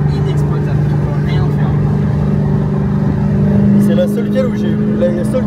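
An 800 hp Dodge Hellcat engine roars steadily and loudly close by, a continuous deep rumbling drone that holds throughout, with people talking over it.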